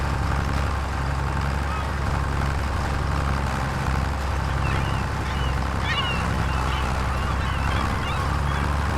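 Seagulls calling loudly on a coastal headland, their harsh cries rising over steady wind rumble and low engine-like drone throughout.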